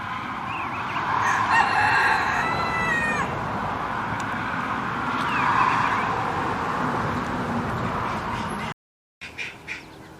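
A rooster crows at a distance against steady outdoor ambience, then another long crow follows a few seconds later.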